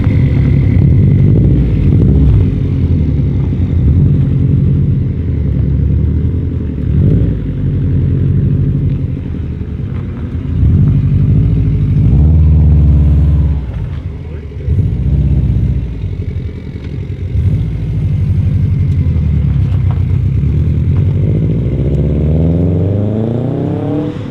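Subaru STI fitted with a new Invidia G200 exhaust, a loud, deep, continuous engine rumble that swells and eases with throttle throughout, close to the car with no talking.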